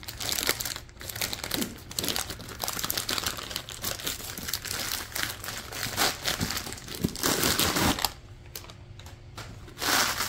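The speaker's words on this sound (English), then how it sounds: "this is one of those like snap type hoses, where it'll hold its shape" A snap-type hose on a laser fume extractor is bent and handled up close, producing continuous crinkly plastic crackling and ticking with a brief quieter pause near the end.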